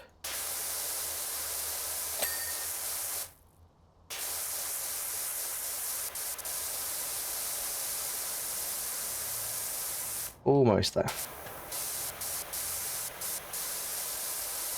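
Steady broadband hiss of a pressure washer jet spraying grime off surfaces in the video game Powerwash Simulator 2, running almost continuously with two short breaks, a brief voice heard over it.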